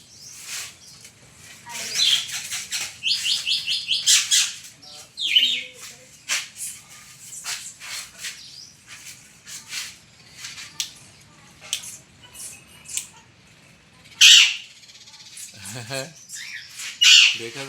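A pet parrot in a large cage squawks loudly while trying to fly, harsh repeated cries mixed with rustling and fluttering movement, plus a few sharper shrieks near the end.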